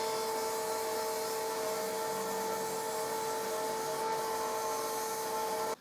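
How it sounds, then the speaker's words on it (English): A belt sander shapes the curved edge of a wooden piece for a treasure chest ottoman, giving a steady, loud whining drone with fixed tones that runs unbroken throughout and stops abruptly at the very end. "So I'll do a bit of shaping to this curve on the belt sander."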